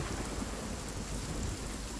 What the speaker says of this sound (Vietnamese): Đừng mưa nữa.